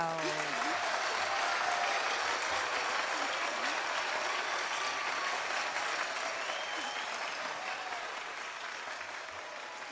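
Audience applause after a final evening presentation at a community event, steady and dense across the room throughout, fading slightly toward the end with faint crowd murmur beneath.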